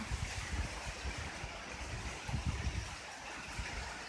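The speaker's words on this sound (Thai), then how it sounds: "ฝนตกที่บ้านลมแรงด้วยนะคะ" Evening rain falls at a house while strong wind blows, making a steady, soft hiss of rain with low, gusty rumbles rising and falling throughout.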